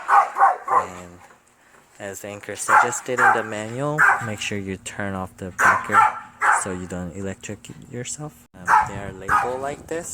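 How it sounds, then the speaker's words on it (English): A pet dog barks at a house while a doorbell is being installed, a few faint barks in the background under continuous close talking. "that's my dog barking because I'm here."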